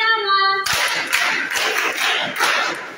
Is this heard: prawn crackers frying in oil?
no